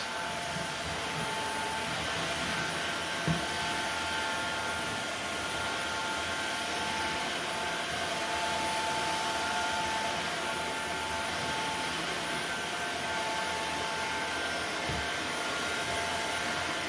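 A Maircle F1 wet mop and S3 stick vacuum run steadily over a linoleum floor, giving a constant, even whooshing motor and airflow hum that stays at a level volume throughout with no talking.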